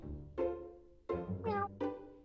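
Cartoonish cat meows from the video game Cats Hidden in Italy and Bali, set in Italy and Bali: three or four clear, close meows in a row with short gaps and no talking.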